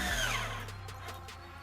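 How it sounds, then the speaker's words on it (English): A power drill drives screws through pilot holes in wood for a sandbox bench lid, a steady motor whine with a rising pitch at the start, then settling into a continuous drone with a few brief ticks. "now we are going to sink our screws using our pilot holes that we just drilled."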